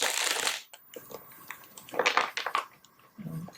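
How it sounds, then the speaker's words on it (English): A deck of tarot cards shuffled by hand, with a burst of riffling followed by scattered soft flicks and card slaps, close and fairly quiet with no talking. "One more shuffle."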